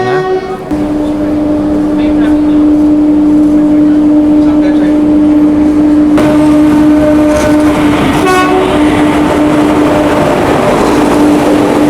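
A train pulls out of a station after a half-hour halt, with a loud, steady droning hum that holds throughout, a horn tone sounding, and a voice talking over it.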